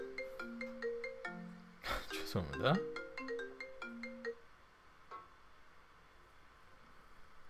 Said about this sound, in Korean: 원래 인기가 없는데 전화가 엄청 오네요 오늘따라